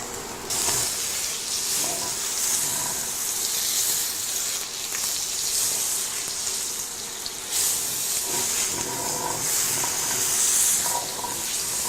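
A rib-eye steak sizzles steadily in a hot pan greased with butter, giving a continuous crackling hiss up close with small pops and no talking.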